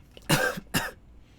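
Two sharp coughs close to the mic, a brief pause between them, then quiet.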